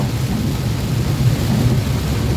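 Heavy typhoon rain with low thunder rumbling through a thunderstorm, a steady loud roar of downpour filling the scene without any talking.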